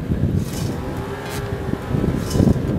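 A 2018 Polaris RZR XP Turbo with DYNAMIX suspension being driven hard through a corner, its engine a loud, continuous rumbling drone with swelling revs and rushing wind noise, close and without talk.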